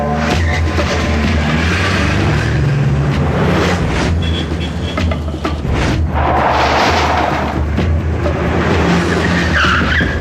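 A car revs hard and tears away with loud tire skids and squeals in a dramatic action scene, the roaring engine and screeching rubber filling the whole stretch with bursts of impact-like booms.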